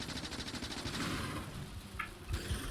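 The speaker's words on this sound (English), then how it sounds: "Those are bigger worms, and they shoot further." Large worms in the Factorio video game shoot with rapid, rattling bursts like machine-gun fire, dense and continuous, followed by a short sharp burst and a low thump near the end.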